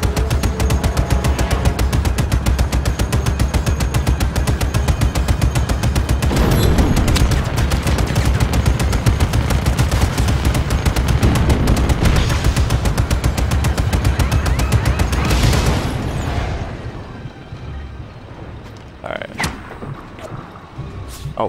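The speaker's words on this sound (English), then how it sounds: "I'm getting shot at now" Rapid automatic gunfire from enemies in the video game Just Cause 3, sustained loud bursts crackling almost continuously before thinning to a few scattered shots and booms near the end.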